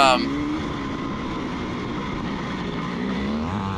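Vintage racing motorcycles drone steadily on a track, producing a continuous high engine whine that holds at an even, fairly loud level throughout.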